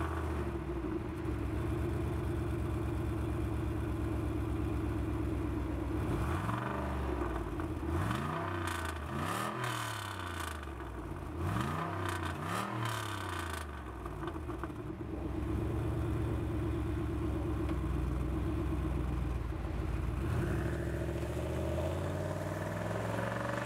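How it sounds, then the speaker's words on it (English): Northstar V8 engine and exhaust of a Cadillac running near, a steady deep rumble with rising and falling revs in the middle, whirring tones sweeping up and down before settling back to idle. "let alone the amazing sound of the exhaust"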